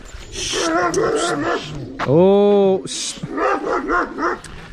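Shepherd dogs bark and yip nearby in loud bursts, with a long howling whine in the middle and whimpering sounds, while people talk over them.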